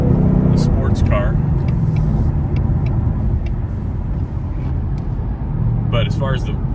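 Road and tire noise inside a 2020 Ford Mustang GT with the 5.0 engine cruising, a loud continuous low rumble and roar throughout, with a few brief squeaks and rattles near the start and end.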